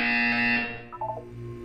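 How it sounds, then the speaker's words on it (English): A loud, harsh electronic buzzer from the Portal 2 video game blares steadily for over half a second, then cuts off into a quieter, warbling tone. "You will hear a buzzer."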